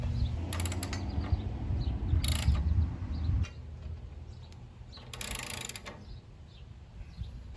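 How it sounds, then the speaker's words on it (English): Socket wrench ratcheting as bolts are tightened on a mulch baffle attachment for a 48-inch SCAG mower; a few short bursts of rapid clicking over a low mechanical rumble, close up. "I'll go ahead and use the socket wrench to tighten it down."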